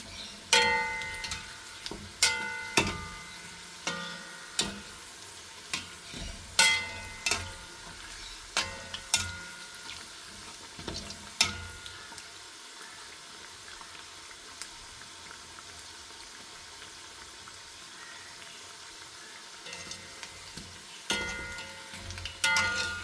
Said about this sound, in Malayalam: ഇനി അത് മുരിയട്ടെ, നമുക്കിത് തിരിച്ച് വെച്ച് കൊടുക്കാം.